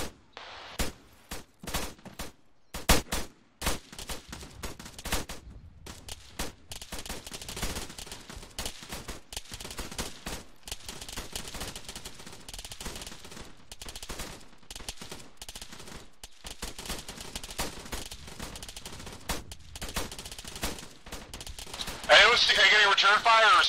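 Suppressive machine gun fire in an Arma 3 battle, sharp repeated bursts of shots near and far, dense early and thinning into scattered cracks, under ongoing radio-style voices talking.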